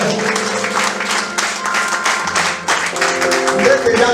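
A church congregation at a gospel breakfast gathering claps and cheers together. The applause is dense and close, with voices calling out over it.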